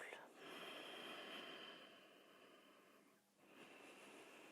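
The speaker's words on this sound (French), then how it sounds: "On inspire, on souffle." Soft, airy breathing during a yoga session, with a long inhale giving way to an exhale after a brief pause, quiet and close.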